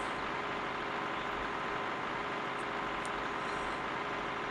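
A combine harvester engine in the farming game Landwirtschafts Simulator 2013 drones steadily, a dense, even low rumble that holds without change throughout.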